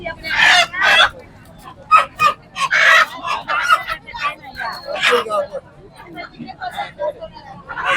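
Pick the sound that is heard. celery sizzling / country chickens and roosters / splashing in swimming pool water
country chickens and roosters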